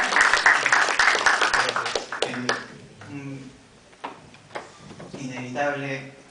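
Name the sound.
audience applause for speaker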